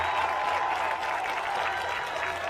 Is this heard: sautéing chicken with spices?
no